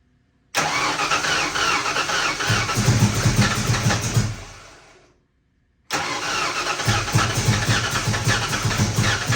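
A 1986 Ford Mustang GT with a MegaSquirt engine management swap cranks and fires, runs roughly loud and close for about four seconds, dies, then restarts and keeps running unevenly.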